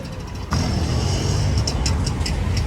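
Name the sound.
auto-rickshaw engine driving off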